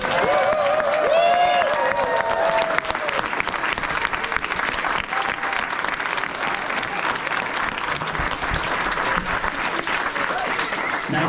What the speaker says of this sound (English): Shall we give them all a big round of applause?